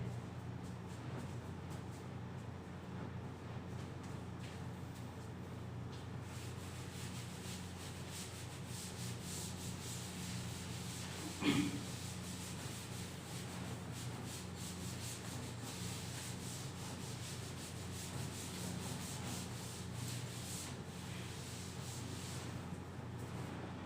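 Steady, faint rubbing runs on and on as writing is wiped off a classroom board, with a single brief knock partway through and no talk.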